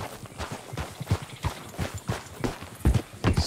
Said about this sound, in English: let's just ride the old horse southeast and see what we can find